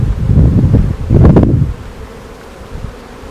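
Honeybees buzzing close and loud in an open backyard hive during an inspection, a dense swelling hum that fades to a softer drone after about a second and a half.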